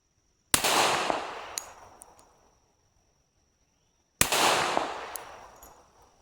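Two sharp, loud gunshots from a Rock Island 1911 .45 ACP pistol fired outdoors, spaced about four seconds apart, each cracking and then rolling off in a long fading echo, with no talking.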